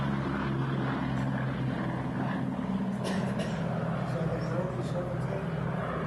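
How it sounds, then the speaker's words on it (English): A restored wartime B-17 bomber takes off, its propeller engines giving a steady, broad drone at moderate distance, with people talking over it throughout. "There's a beautiful shot of the plane taking off."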